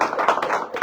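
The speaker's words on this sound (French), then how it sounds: "Applaudissez-vous." Clapping from an audience at a lively public rally in Cocody, Abidjan, a short dense burst of many hands heard close and fairly loud, with no voices standing out.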